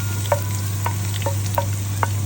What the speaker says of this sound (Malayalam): അതൊന്ന് നീക്കി കൊടുത്തിട്ട് അതിനകത്തോട്ട് തന്നെ ഇഞ്ചി ഇടുക